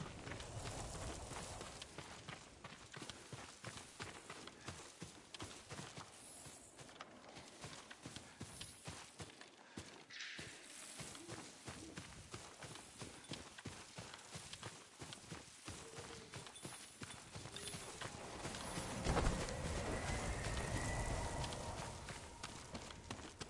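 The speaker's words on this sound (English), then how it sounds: "Yuriko's horse." Horse hooves clip-clop at a steady trot in Ghost of Tsushima, a rapid, regular patter that stays faint and continuous under ambient game wind and rustle, with a brief louder swell near the end.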